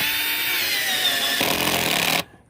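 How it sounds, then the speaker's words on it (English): A power drill drives screws into the air filter compartment of a 2017 Dodge Challenger SXT, a loud close whine that shifts pitch midway, then cuts off abruptly near the end. "I'm drilling back, putting back the screws in the air filter compartment"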